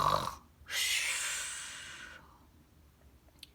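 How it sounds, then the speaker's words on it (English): A giant snores loudly as he falls asleep over his gold, one long drawn-out rasping breath that swells and then slowly fades, with a brief breathy sound just before it and a faint click near the end. "He fell asleep, snoring loudly."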